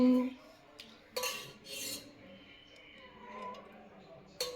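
A bowl is set down for sambar to be ladled into it, heard as a few sharp clinks and scrapes of dishes and cutlery, with quiet handling noise between them.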